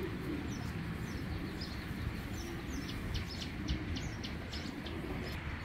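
Jumpai pigeons kept for sale coo softly, a low continuous murmur with faint chirps over it, heard from close by without any talking.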